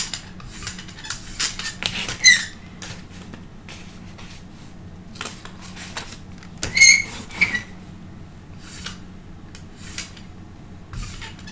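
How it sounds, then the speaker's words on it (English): A squeaky paint brayer rolls back and forth in uneven strokes, high rubbery squeaks bursting out at intervals among soft scraping and rolling rubs, close and fairly quiet. "Squeaky brayer."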